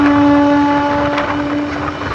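A passenger train on a newly doubled line in Uttar Pradesh runs at speed past a railway station, a loud close rumble with a steady hum and a sharp clank partway through.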